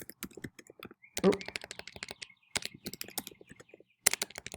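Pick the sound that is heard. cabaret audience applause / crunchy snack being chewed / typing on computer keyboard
typing on computer keyboard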